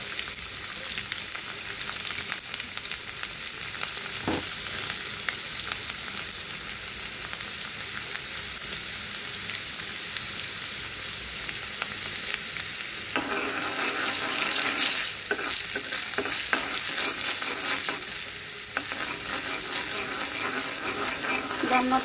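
Garlic frying in hot oil to temper a Bengali vegetable dish of rooftop-garden greens, a steady broadband sizzle throughout with scraping stirs, growing louder and busier in the second half.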